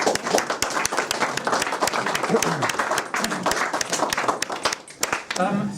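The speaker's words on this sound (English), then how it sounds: "please give Donal Blaney a very big round of applause" Audience at a Margaret Thatcher birthday weekend event claps vigorously for a guest speaker, crisp, closely spaced hand claps forming a continuous round of applause with some voices mixed in.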